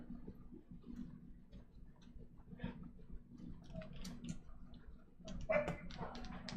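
Dogs in a home make faint, distant yips and whimpers, scattered and growing a little busier toward the end over a quiet background hum.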